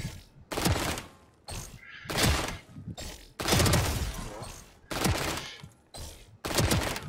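Bursts of gunfire ring out in a shooting video game, about six separate volleys of rapid, loud shots, each lasting under a second and separated by brief pauses.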